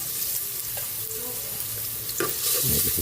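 Garlic frying in cooking oil for pork dinuguan, a steady close sizzle with a few stirring scrapes and clatters, growing a little louder toward the end.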